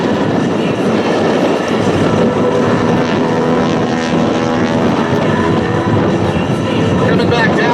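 A Harvard warbird's radial engine and propeller roar loudly and steadily during an airshow tail slide, a constant heavy drone with no break.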